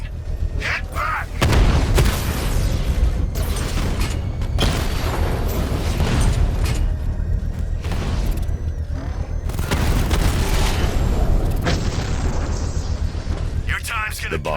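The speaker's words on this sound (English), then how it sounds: "I can use the power winch to trigger a controlled explosion." Heavy blasts and rumbling booms erupt in Batman: Arkham Knight as a bomb payload is set off in a controlled explosion, several loud detonations and sustained roaring debris with gunfire-like cracks over fourteen seconds.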